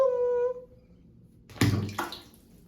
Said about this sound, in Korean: 자, 입욕제 투하 슝!